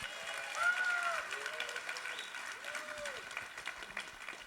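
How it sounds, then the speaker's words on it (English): Crowd applause at a Beach Boys event, a soft spread of clapping with a few voices talking and calling over it, rising briefly then tapering off. "One more round of applause for these guys right here."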